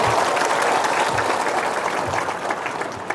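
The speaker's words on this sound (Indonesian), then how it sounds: "Tepuk tangan dulu." Audience at an Indonesian campaign event in Gunung Sari bursts into sustained applause, a steady dense wash of clapping from a large crowd that holds at a constant level throughout, with a faint voice or two underneath.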